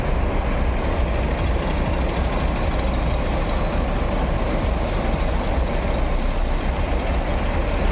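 A Ranah Minang Jetbus 5 bus maneuvering with its engine running, a loud, steady diesel rumble that stays constant throughout without pauses.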